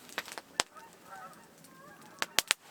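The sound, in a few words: geese honking in the woods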